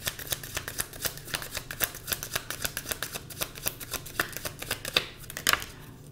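A deck of cards is shuffled by hand, giving a quick run of crisp riffling flicks in a steady rhythm, close and fairly loud, ending in a brief final ruffle.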